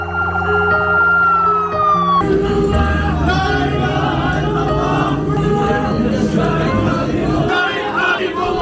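An ambulance siren wails loudly as it arrives at a specialist hospital in Nablus, then a crowd of people clamours and shouts around it, close and continuous.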